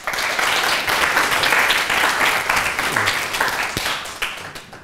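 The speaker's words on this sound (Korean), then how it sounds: "박수 한번 칩시다" Sustained applause from an audience in a university lecture hall, a dense wash of many hands clapping at steady loudness for about five seconds before thinning out near the end.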